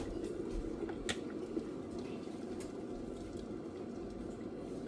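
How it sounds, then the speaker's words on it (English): Water boiling in an OVENTE glass electric kettle, a quiet, steady bubbling hiss and rumble with a few small pops, continuous throughout. "See, as you can see, it's boiling."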